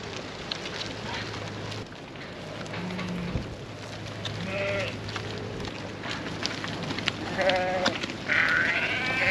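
Sheep and lambs bleat intermittently inside a shed, several calls near and some farther off, over a continuous rustling and shuffling background.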